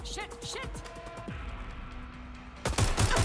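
Incoming gunfire in Watch Dogs: Legion: quick volleys of sharp shots crack out early, then a pause before a louder, denser burst of fire near the end, with other game sounds underneath.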